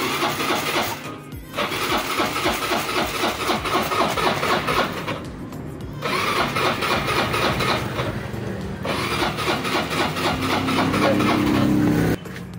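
Kawasaki Curve motorcycle engine, long unused, started and idling: a close, buzzy putter that cuts out and catches again several times, running in bursts separated by short gaps, with no voices over it.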